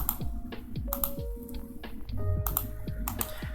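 Several crisp keypress clicks on a computer keyboard, including a tap of the F3 key, sounding close and dry in quick, irregular bursts with no speech.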